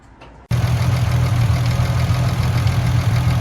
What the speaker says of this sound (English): That's the engine running now up to temperature.